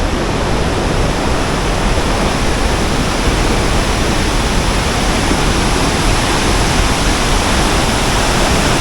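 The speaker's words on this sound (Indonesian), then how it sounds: "ini saya mencoba untuk mendekat air terjun Kapas Biru" Kapas Biru waterfall in Lumajang roars up close, a loud, steady wash of falling water with no break throughout.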